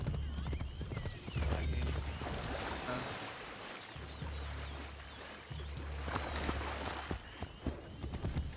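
Rhythmic clip-clop of horse hooves while riding in the Assassin's Creed Shadows video game, steady and close, with a low rumble and game ambience around it.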